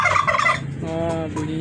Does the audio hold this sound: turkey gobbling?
yes